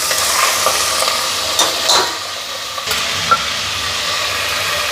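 Minced mutton keema fries loudly in a pan with ginger-garlic paste, giving a steady close hiss and sizzle broken by a few scraping stirs and clinks.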